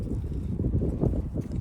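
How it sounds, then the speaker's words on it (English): Strong mountain wind buffets the microphone in a steady, rough roar with gusty swells, loud and close, and no voices over it. "wind's still howling"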